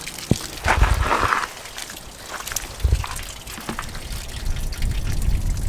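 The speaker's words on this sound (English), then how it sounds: "now it is completely pouring out the bottom of the van" Water pours and drips steadily out of the bottom of a broken camper van: a continuous splashing trickle, with scattered heavier drops and spatters landing close by.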